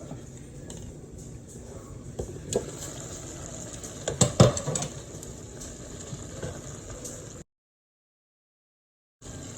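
A pot of water with cabbage, carrots and leftover chicken at a rolling boil on a home stove, a quiet steady bubbling with a few clinks of utensils in the middle, then an abrupt cut to silence.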